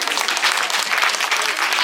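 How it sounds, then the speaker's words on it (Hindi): Brief, dense clapping from an audience at a government senior secondary school's annual function, a close, steady wash of many hands applauding students with faint voices mixed in. "तो इन सभी बच्चों के लिए तालियां तो बजती रहनी चाहिए।"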